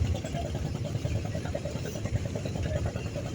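A trawler engine drives a small ferry carrying only motorcycles across the river at Munshiganj while sand is unloaded nearby, chugging in a steady low-pitched rhythmic thrum with faint clatter, close and continuous throughout.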